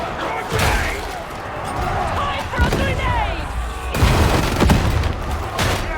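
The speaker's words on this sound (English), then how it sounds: "It's a lot of artillery just went out" Heavy artillery fire in the Warhammer 40,000: Darktide video game, loud booming impacts and bursts of gunfire over a chaotic battle, with someone talking throughout.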